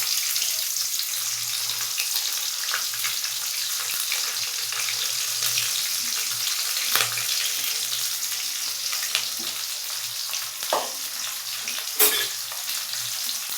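Chopped onions and green chillies frying in oil with cardamom, cinnamon and bay leaf, a bright steady hiss running throughout with occasional soft stirring knocks, close and unbroken; no speech.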